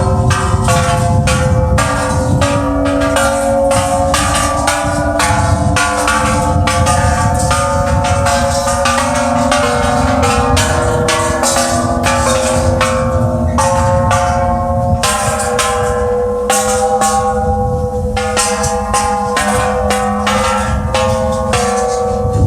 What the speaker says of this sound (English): Ring these bells here, and let's see how they all sound.